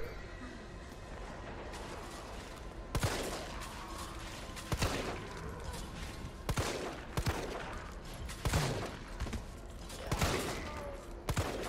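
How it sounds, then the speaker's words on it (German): Gunfire in the video game Resident Evil 3, repeated bursts of shots every second or two over a constant rumbling game background, fairly quiet overall. "ich darf nicht so viel daneben schießen"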